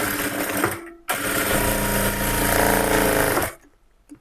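A sewing machine stitches darts on a blouse in two loud, fast bursts of rapid needle chatter, separated by a short pause and ending abruptly.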